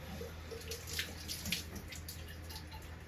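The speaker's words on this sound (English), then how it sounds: "I'm gonna give it a quick little rinse." Tap water runs steadily while an old bottle dug up from the ground is rinsed, a close, fairly quiet splashing stream with small gurgles and no talking.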